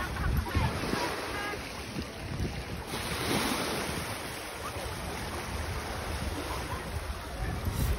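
Water rushing and washing steadily along a beach shore, a continuous broadband surge with wind buffeting the microphone throughout, loud and close with no voices.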